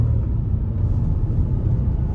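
A 2022 Skoda Fabia with a 1-litre engine pulls hard in sport mode, its steady low rumble droning loud and close inside the cabin, with no voices over it.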